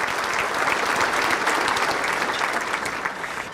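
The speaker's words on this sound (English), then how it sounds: "Let's give them a round of applause." An audience applauds steadily for the proud parents of the week's featured players at a team gathering, a dense, sustained clapping that stays loud throughout and fades slightly at the end.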